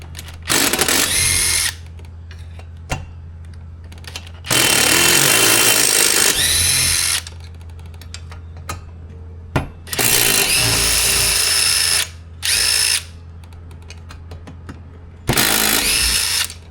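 A power drill whirs in several loud bursts of a few seconds each, removing stubborn cylinder head bolts on a Stihl TS420 concrete saw, separated by quieter gaps with faint clicks and handling noise.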